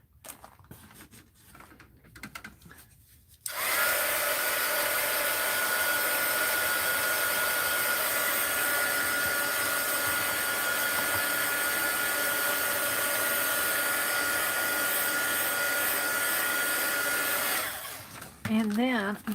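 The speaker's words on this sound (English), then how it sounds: "Let's hit it with the heat gun." A heat gun blows steadily and loudly on a mixed-media art journal page for a long continuous stretch, with a constant airy roar that cuts off near the end.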